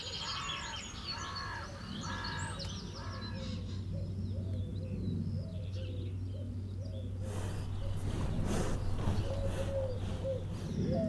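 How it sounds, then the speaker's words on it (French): Birds gather outdoors near two carved stone basins holding rainwater on a megalithic trail in Ardèche, with crow-like caws and cooing calls repeating in short bursts over a low steady hum. "Les oiseaux viennent y boire."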